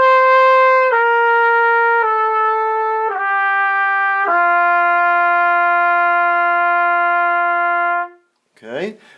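A clarinet plays a slow descending line from a high D, five sustained notes stepping down one after another, loud and clear on its own, followed by a brief burst of speech.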